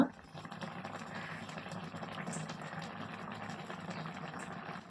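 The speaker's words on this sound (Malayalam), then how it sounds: "നമ്മളിവിടെ ചേർത്ത് കൊടുത്ത വെള്ളം നല്ലതുപോലെ തിളച്ചു തുടങ്ങിയിട്ടുണ്ട്" Water boils in a pan for tomato upma, a quiet, steady bubbling rumble with a soft hiss that stays even throughout and has no voices over it.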